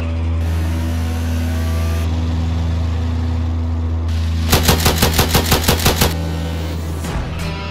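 A minigun firing in GTA San Andreas, a burst of about ten rapid, evenly spaced loud shots rising over a constant low engine drone, then fading back to the hum.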